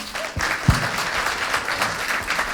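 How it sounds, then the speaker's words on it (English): Steady applause from a crowd, dense clapping sustained throughout with a few louder claps standing out. "Give Kelly a round of applause."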